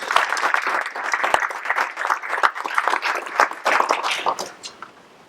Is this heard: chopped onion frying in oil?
no